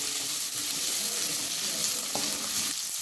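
Onion and green chilies sautéing in a pan, a close, steady sizzle with stirring scrapes and a single sharp knock near the end.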